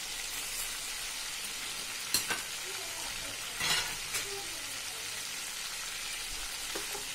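Garam masala, cumin and spices sizzle and fry in a pot while a spoon scrapes and stirs, giving a steady crackling hiss broken by a few sharp clinks of utensil against metal.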